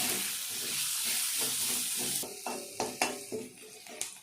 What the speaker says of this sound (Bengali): পেঁয়াজটা এবার একটু লাল করে ভাজবো।